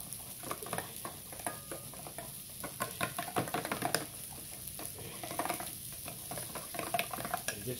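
Mayo burger sauce for smash burgers is stirred briskly in a bowl, a steady run of close, scraping and clicking strokes with no voices.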